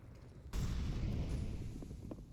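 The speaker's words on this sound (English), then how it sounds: "The nade should do a fair bit of damage." Grenade blast followed by a rapid rifle-fire barrage in a CS:GO match on Overpass, loud and sustained, a sharp boom opening into dense gunfire.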